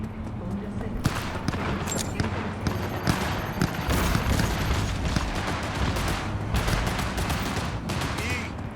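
Gunfire aimed at police in the video game Cyberpunk 2077, a dense, continuous clatter of rapid shots over a busy, rumbling background at moderate loudness, with voices mixed in.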